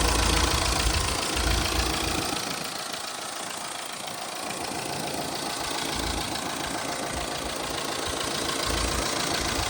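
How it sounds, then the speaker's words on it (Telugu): A 2024 Mahindra Thar LX RWD with the 1.5-litre diesel engine idles steadily and loudly, a close, continuous rough diesel clatter with no talking over it. "ఇంజన్ సౌండ్ కూడా చెక్ చేసుకోవచ్చు సార్."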